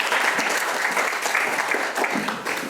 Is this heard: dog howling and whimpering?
no